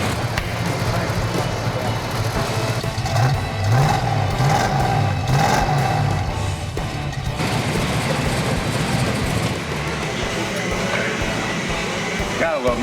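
A 1970 Hemi Charger with a four-speed, one of 56 built, runs just after an exhaust gasket fix for a leak: a deep, rumbling engine idles loudly, then rises in a few quick revs before settling back, with murmuring in the background.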